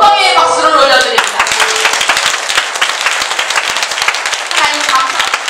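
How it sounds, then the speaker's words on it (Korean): Congregation applauding in a church service, steady dense clapping throughout with a voice speaking over the start. "영광의 박수를 올려드립니다."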